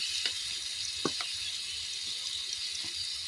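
Beef liver fries with garlic paste in a pan, giving a steady, close hiss of sizzling broken by a few soft clicks and taps.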